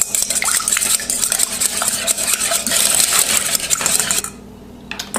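A utensil stirs vanilla into cake batter in a bowl with close, continuous scraping and clinking against the sides, stopping near the end.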